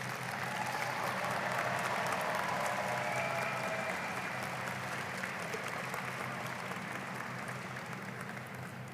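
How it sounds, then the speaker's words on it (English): Audience applause at a university doctoral hooding and master's recognition ceremony, honoring the graduates' supporters: a steady, sustained wash of many hands clapping in a large hall, slowly tapering near the end. "So how about you applaud the folks who are here in your support?"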